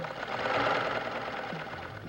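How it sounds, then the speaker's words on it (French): A Brother VX1010 domestic sewing machine stitches fabric in a steady, continuous mechanical whir, close and moderately loud throughout, with no talking. "Placez le tissu sous le pied presseur. Descendre le pied. Tirez les fils vers l'arrière. Commencez à coudre."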